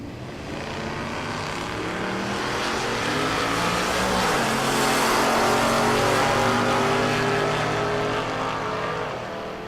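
Two supercharged drag race cars, a Mopar-powered Dakota and a Nova, launch side by side, engines roaring loud and rising in pitch together as they pull away, then fading slightly.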